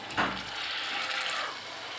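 Two spoonfuls of water steeped with coriander leaves are splashed into a pan of begmati chicken curry, a short sharp pour followed by a soft, continuing watery sizzle.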